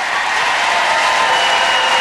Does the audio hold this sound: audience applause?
yes